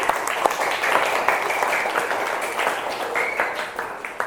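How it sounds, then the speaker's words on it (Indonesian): A fourth-grade classroom applauds a student group, with steady, fairly dense clapping from many children lasting several seconds, with some faint voices mixed in. "Tepuk tangan buat kelompok 1."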